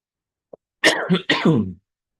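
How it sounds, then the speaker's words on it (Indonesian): A short, sharp cough, preceded by a tiny click, in an otherwise quiet room. "Batuk ya."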